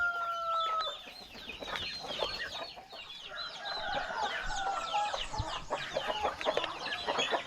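Chickens cluck and a rooster calls repeatedly around a farm's chicken coops after a wet night of rain, a busy overlapping chorus of fowl close by, with no talking.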